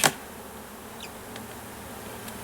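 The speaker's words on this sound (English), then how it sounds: "Oh boy, is it packed full of bees." Honey bees hum in a dense, steady buzz from a hive box packed full of bees, close and continuous, with one sharp knock at the very start.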